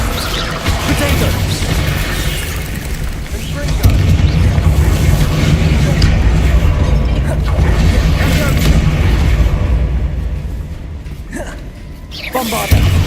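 The Bombarda explosion spell in the video game Hogwarts Legacy booms amid a loud, continuous battle of rumbling blasts and crashes, with a voice speaking over the action.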